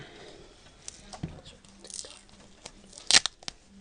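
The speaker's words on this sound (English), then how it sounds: "You start by peeling off a piece of duct tape." Brown duct tape peeled off the roll at close range, a faint sticky rasp building to a sharp, loud rip near the end, with quiet speech in between.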